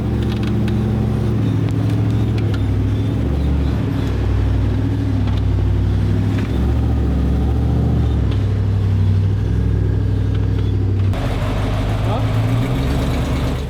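A rock buggy's engine rumbles and revs steadily while crawling over rocks on an East Coast off-road trail in West Virginia, loud and close throughout, with the tone shifting near the end.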